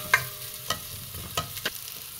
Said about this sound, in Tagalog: Yan, magigisa na pala kami ng sibuyas